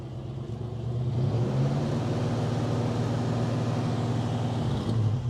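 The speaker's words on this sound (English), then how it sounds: "can you rev the engine for me, sir?" A 1967 Ford Mustang Fastback base model engine idles, then revs up into a sustained loud roar, settling back toward idle near the end, recorded close by.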